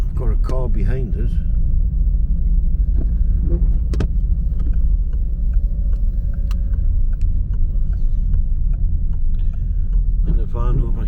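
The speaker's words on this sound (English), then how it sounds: "I've got a car behind us." A car drives close behind on a rural forest road, a steady loud engine and tyre rumble running throughout while someone talks over it at the start and end.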